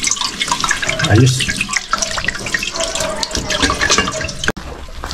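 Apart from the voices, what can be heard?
water running from a tap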